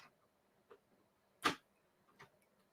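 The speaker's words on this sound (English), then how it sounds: "the noise you hear behind us is our cat trying to open the door" A few sparse metallic clicks and rattles, one louder clatter in the middle, as a cat jiggles a wooden doorknob trying to open a door in an otherwise quiet room.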